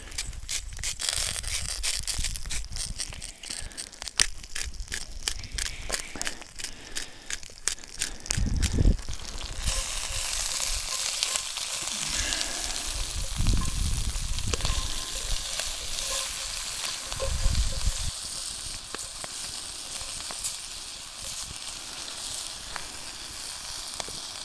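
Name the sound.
food frying in olive oil in cast iron pan over flames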